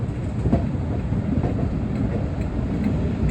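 Train rumble on the Nene Valley Railway as a Thomas steam engine hauls carriages into Wansford tunnel, a steady close, loud roar with faint clickety-clack of wheels throughout.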